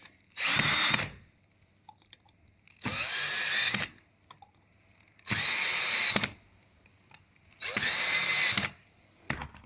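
A power drill tightens screws on a lighting circuit in four loud whirring bursts of about a second each, separated by quiet pauses with faint handling sounds.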